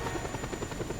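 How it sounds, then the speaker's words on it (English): Helicopter in the video game Just Cause 2, a steady rhythmic rotor chop with a constant whine, moderately loud and uninterrupted over a brief stretch. "I thought that was the helicopter that I destroyed,"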